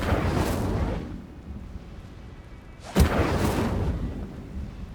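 A fiery spell cast in Hogwarts Legacy: two loud whooshing, rumbling fire bursts about two seconds apart, each flaring suddenly and fading into a roaring tail, with no voices.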